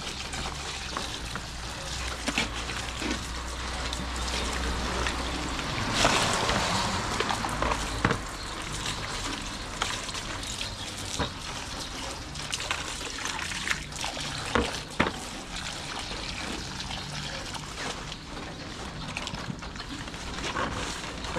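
Harvested eggplants being washed in water, with a steady trickle and splashing of liquid and occasional stirring sounds running throughout, close and moderately loud with no speech.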